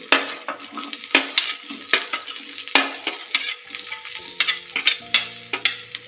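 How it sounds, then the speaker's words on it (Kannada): Onions, garlic and ginger frying in oil for a brinjal curry, a steady sizzle with repeated loud scrapes and clanks of a ladle stirring in the pan, close and without talk. "ಒಂದೊಂದೇ ಐಟಮ್ ಹಾಕ್ಕೊಂಡು ಎಲ್ಲವನ್ನು ಫ್ರೈ ಮಾಡೋಣ"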